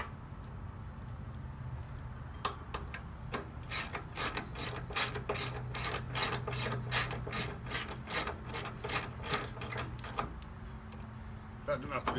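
A ratchet clicks in quick repeated bursts as it tightens the blade bolt on a John Deere sit-down riding mower, with steady mechanical clatter and an occasional voice underneath.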